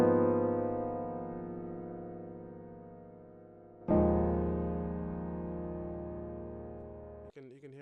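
Solo piano from a Roland SRX Piano 2 software instrument, dry with no effects: a sustained chord rings and decays, a second chord strikes near the middle and fades, then a brief different sound cuts in at the end.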